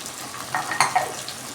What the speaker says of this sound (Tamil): தக்காளி போட்டு நல்லா வதக்கிக்கணும் போட்டு சால்ட்டு போட்டு வதக்கணும்னா தக்காளி சீக்கிரம் வதங்கிக்கும்